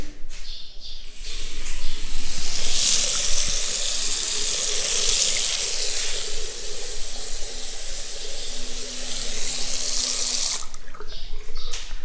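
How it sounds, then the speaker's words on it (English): Hot and cold water run steadily from a newly installed tap in a house under construction in the Philippines, a loud continuous rushing stream that cuts off near the end. "Hot and cold water are working fine inside here."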